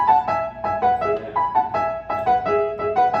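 Piano phrases mimicking hunting horn calls, short repeated rising figures in a bright, brisk rhythm, played alone at moderate volume.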